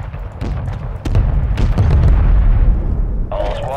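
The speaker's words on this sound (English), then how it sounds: "He's called that mortar in." Mortar strike explosions in the Call of Duty Warzone video game, a heavy booming rumble with a few sharp cracks landing close, followed by a game voice announcement at the end.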